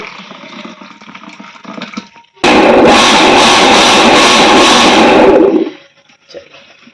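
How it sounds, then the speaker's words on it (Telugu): A loud mixer grinder whirs for about three seconds while grinding a coriander paste with added water, starting abruptly and winding down, between quieter stretches of background noise. "ఒకసారి ఇంకోసారి మిక్సీ పట్టుకోవాలి"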